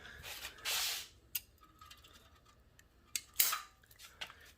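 Scissors snip through an air shock line while it is fitted to a Chevy S10 air-ride setup, giving one long cut and then a sharp second snip with a few small clicks. The sounds are close and quiet, and no one speaks.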